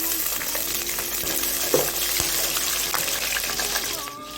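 Five green chillies, curry leaves and small shallots fry in hot oil in a pan, a dense continuous sizzle with occasional stirring knocks, close and fairly loud, fading slightly at the end.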